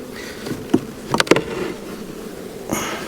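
Honeybees swarm inside an opened hive box in a honey yard, giving a steady low buzz with a few brief, louder surges near the start and again near the end.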